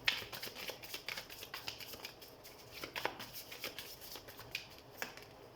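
A deck of tarot cards being shuffled up close, with quick repeated riffling flicks in a steady rhythm that stays fairly soft.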